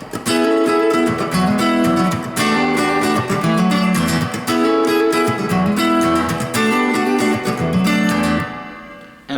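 A loud, distorted electric guitar riff plays in repeated rhythmic chords for several bars, then stops abruptly.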